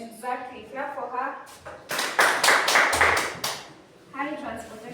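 A classroom audience claps for a student in a burst of dense applause lasting about two seconds, set between stretches of talking.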